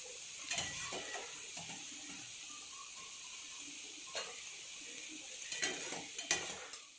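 Elephant yam fry mixture being stirred in a pan, with soft scraping strokes of a spoon against the metal and a faint sizzle underneath, several brief louder stirs spaced through the run.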